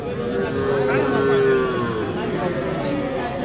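A bull calf lets out a drawn-out moo over the steady hubbub of a crowd talking nearby at Aftabganj cattle market.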